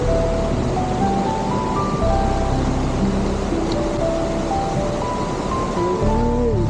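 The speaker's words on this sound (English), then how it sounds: "I've never actually seen such big waterfalls before" Large waterfalls in Wales pour down with a constant, full roar of rushing water, close and loud, mixed with wind buffeting the microphone.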